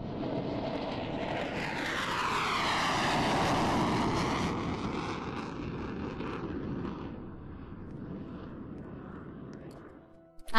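Airplane airstrike in the Roblox Star Wars Tycoon game roaring overhead, a loud sustained engine whoosh with a sweeping pitch that swells, passes and fades over several seconds, heard alone without talk.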